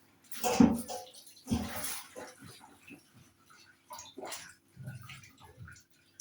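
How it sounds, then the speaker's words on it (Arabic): Tomatoes are rinsed by hand under running water: bursts of splashing and gushing from a tap, with pauses and smaller trickles and drips, close by. "والطماطم بتاعتي اهي هغسلها بقى كده"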